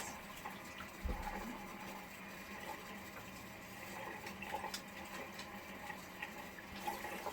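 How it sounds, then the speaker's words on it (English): Water splashes softly and continuously as a face is washed with water and gel cleanser, a low running-water wash with a few brief splashy bumps and no speech. "So just wash your face."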